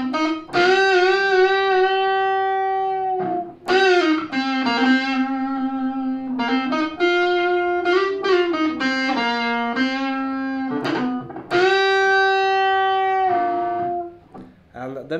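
Electric guitar with effects plays solo phrases from a song: sustained, singing melodic notes with slides and bends over about fifteen seconds, loud and close, no talking.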